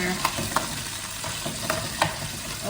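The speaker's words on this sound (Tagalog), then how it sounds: "Pwede na natin igisa sa bawang, butter." Cooked crab sautéing with garlic and butter in a pan: a dense, continuous close sizzle with a few soft stirring knocks and scrapes at regular intervals, no voices.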